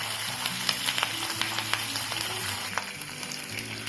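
Ginger and curry leaves sautéing in a pan of hot oil while rice dishes are seasoned, a steady close sizzle with scattered crackles and pops throughout, no voices.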